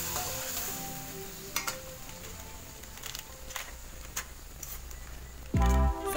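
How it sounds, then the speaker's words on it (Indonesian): Oil sizzles steadily in a wok as spices sauté over medium heat, with occasional clinks of a utensil stirring, then a brief loud low hum near the end. "kita menumis bumbu yang diharuskan menggunakan 2 sendok makan minyak"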